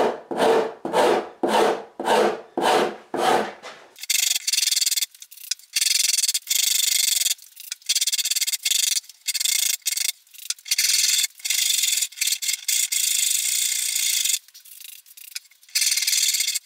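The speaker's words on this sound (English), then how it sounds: "we're literally just going to put a 45 degree chamfer along those lines on both sides of the neck" Hand tool strokes rasping and filing a 45 degree chamfer along both sides of a wooden Precision Bass neck, opening with a run of about eight even, rhythmic rubbing strokes, then continuing as faster, choppier scraping up close with no talk.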